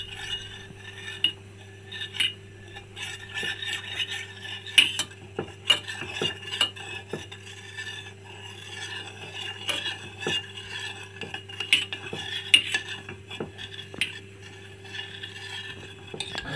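A utensil stirs a boiling starch paste in a pot for kimchi, giving intermittent scrapes and clinks against the pot over a low steady hum, close and fairly quiet with irregular rhythm.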